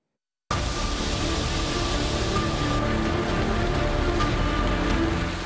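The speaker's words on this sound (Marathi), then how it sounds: "कोकणामधल्या जिल्ह्यांना सुद्धा जोरदार पावसानं झोडपलंय" Heavy monsoon rain in the Konkan region comes down as a dense, even roar of hiss that starts abruptly after a brief silence and holds steady and loud throughout, with no voices.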